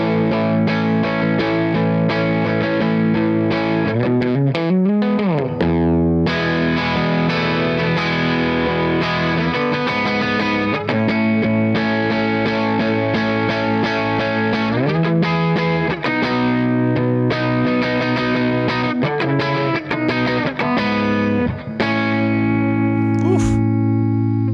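A Safari Pedals Level-Or distortion plugin with reverb: heavily distorted synth or guitar chords with reverb wash, loud and continuous, shifting pitch every few seconds with gritty saturated harmonics.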